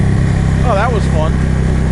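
A motorcycle engine drones steadily while riding behind a car on the road, with a couple of brief rising-and-falling engine sweeps as the rider shifts up gears.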